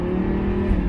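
A Lamborghini in Corsa mode drives past on a rainy day, giving a brief, loud, steady engine drone with a strong low hum heard nearby.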